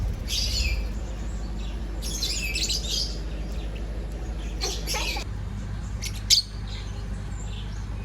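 Birds at a nature park give several short bursts of high chirps and squawks, separated by pauses over a low background rumble, with one sharp louder burst near the end.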